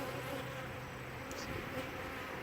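Honey bees swarm and buzz around a rejected queen at a hive, making a steady, dense droning hum that holds throughout with no voices.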